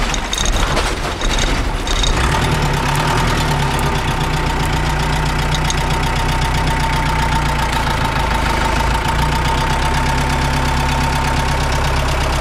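A Mercedes 508D diesel van engine idles steadily at close range, a low continuous diesel rumble with a slight knock after a brief rougher start.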